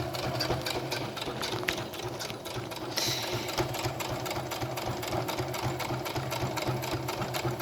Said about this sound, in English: we're going to be sewing our elastic in